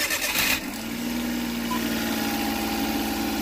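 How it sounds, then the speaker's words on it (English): A Suzuki Every van engine cranks briefly, then catches and settles into a steady, close idle with a low, even drone that holds for several seconds with no talking. "So I'm going to start the car up."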